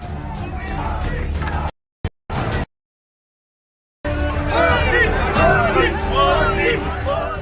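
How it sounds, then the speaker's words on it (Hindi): Crowd noise from a large gathering welcoming Prime Minister Modi at Una railway station in Himachal Pradesh: loud hubbub of many voices with shouts, cut off by a brief gap of silence, then resuming at full volume. "भीड़ के भव्य स्वागत से गदगद पीएम मोदी ने बेहद करीब जाकर लोगों का अभिवादन किया।"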